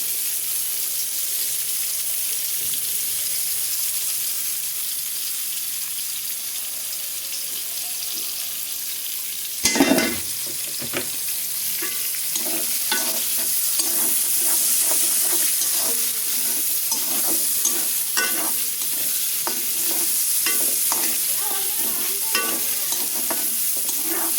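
Oil hissing and sizzling steadily in a pan while khichuri cooks, with a sharp metallic clatter near the middle and busy stirring scrapes and taps that follow, close and fairly loud with no talking.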